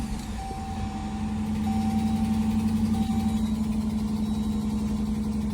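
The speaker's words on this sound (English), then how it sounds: "Got the battery in. Gonna turn it over. See what it sounds like." A 2017 Dodge Durango, just fitted with a new battery, starts and settles into a steady idle, its low engine drone rising slightly before holding even, with faint chime tones over it and no talk.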